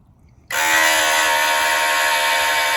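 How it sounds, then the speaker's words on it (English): A water pump switches on from a rain barrel feeding a backyard water feature, bird bath and plant watering system, starting abruptly after a quiet moment and then holding a loud, steady, tonal whine. "The pump should kick on any second."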